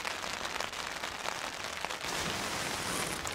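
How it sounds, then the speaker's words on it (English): Rain falls steadily on a tarp under pine trees in a camp at night, a dense even hiss of drops with occasional louder taps, growing slightly heavier partway through. "The rain has started."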